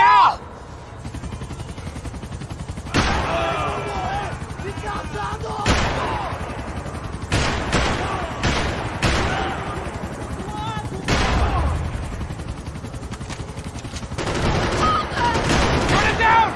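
Gunfire in Max Payne 3 bursts out in repeated loud volleys and automatic fire over a rumbling action backdrop, with shouted voices mixed in.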